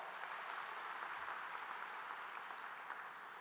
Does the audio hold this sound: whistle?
no